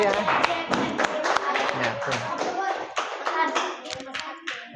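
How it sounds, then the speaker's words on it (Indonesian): Clapping hands from a group in a classroom presentation, a burst of sharp, close claps that thins out toward the end, with a voice briefly heard among them. "Beri tepuk tangannya."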